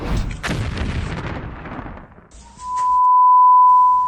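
An explosion booms during an attack on the port of Novorossiysk, a loud blast with rumbling, crackling aftermath that fades, followed by a steady high-pitched tone cutting in.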